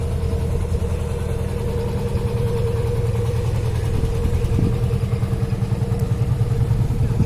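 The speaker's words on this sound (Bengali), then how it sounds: "আর এই মুহূর্তে নদীতে আমি একটা ট্রলারও আসতে দেখছি" Motorized trawler boat engine on a river, a steady low chugging drone with a constant mid-pitched whine, continuous and fairly loud throughout with no talk.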